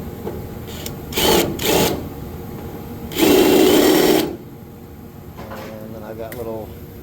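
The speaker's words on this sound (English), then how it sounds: "I'm going to drill this out. Get a nice even hole." A power drill bores out a hole in the steel body of a 1969 VW bus during restoration, with a few short whining bursts followed by one longer, louder grinding run against faint background hum.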